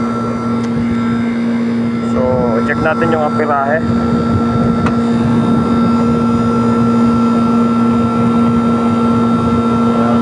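An electric motor runs with a loud, constant hum and steady drone after its capacitor was replaced, under brief talk from a man.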